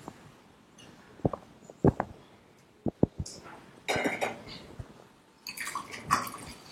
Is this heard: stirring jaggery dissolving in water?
yes